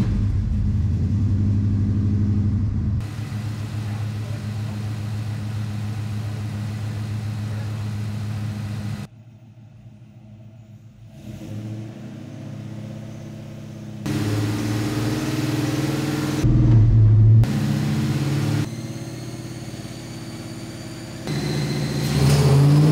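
A Ford 7.3L Godzilla V8 in a Fox Body Mustang runs loudly on a dyno for a long stretch, droning and rising in pitch as it revs, briefly dropping off before climbing again.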